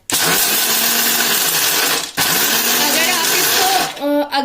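A mixer grinder whirs loudly as it coarsely grinds peanuts, a strong steady motor whine with a brief dip midway and a winding-down stop near the end, close and dominant while someone talks over it.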